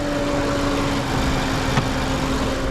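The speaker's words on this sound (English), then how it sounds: "Very quiet engine, but it does make some cool noises." A 2022 Mazda3 hatchback's 2.5-litre Skyactiv-G Turbo engine idles steadily and quietly, a low even hum with faint tonal whine running throughout and one brief tick near the end.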